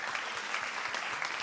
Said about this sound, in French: Vous avez raison de les applaudir.